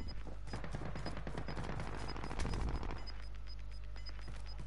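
Rapid bursts of automatic gunfire in the Warzone video game, loud and close, with a sustained rattling volley that thins after a few seconds into lighter scattered shots over a low steady hum.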